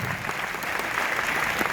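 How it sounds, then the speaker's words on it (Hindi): Audience applause fills a DXN product meeting, a steady, dense wash of many hands clapping at even loudness throughout, with no distinct voices over it. "डॉक्टर एस रंजन से एक जबरदस्त ताली होनी चाहिए"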